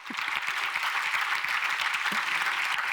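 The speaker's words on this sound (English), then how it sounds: "Usually there's applause when we're taking a picture." Audience applause during a group photo at the LIFE Awards 2024 ceremony, steady even clapping from a crowd sustained throughout at moderate volume.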